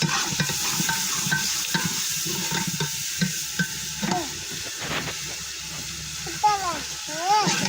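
Onions and green chilies frying in a pan for moong dal, a steady sizzle broken by scraping stirring strokes, while someone talks over it.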